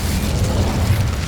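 Incendio fire spell in Hogwarts Legacy erupts as a loud, continuous, roaring burst of flame that fills the whole moment with dense rumbling noise and no talk.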